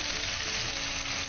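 Chopped spring onion and garlic sizzle in a hot pan, giving a steady, fairly loud hiss close by with no break and no talking.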